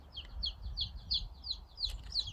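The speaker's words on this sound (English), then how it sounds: "You can also hear some chicks chirping in the background." High, repeated chirps from chicks in a steady rhythm, soft and somewhat distant over a low background rumble.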